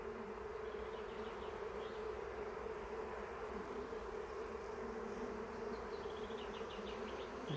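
Honeybees swarm around an open beehive during a colony inspection, making a dense, continuous buzz close by with no break and no talking.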